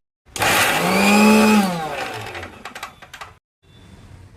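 A mixer grinder blending cabbage chutney paste with a little added water whirs loudly for about a second and a half, its pitch sagging as the load thickens, then it clatters in short uneven bursts before cutting off into near silence.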